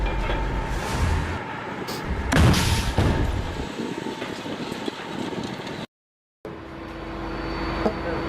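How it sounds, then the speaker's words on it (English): Mortar rounds fired in combat, heavy booming thumps with sharp blasts and rumbling echoes, loud and distant in turns, broken by a short silent gap. "These are mortars being fired."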